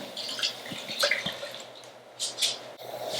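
Water from a running tap splashes as hands are washed with soap at a kitchen sink, with soft irregular drips and splashes that swell briefly and stay fairly close.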